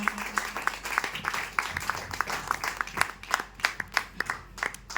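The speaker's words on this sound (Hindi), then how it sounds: "एसपी पांडे सर के लिए जोरदार ताली होनी चाहिए" Applause from an audience at a health foundation program event in India, many hands clapping steadily and moderately loud with irregular sharp claps standing out near the front.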